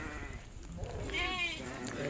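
A sheep at a Maharashtra farm gives a short wavering bleat midway, moderately near, over a busy background of other faint animal and outdoor noise.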